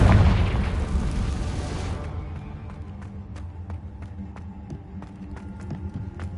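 A Confringo fire spell detonates with a loud, close booming burst in Hogwarts Legacy during a fight with a giant spider, its roar decaying over about two seconds into low rumble and scattered crackling pops.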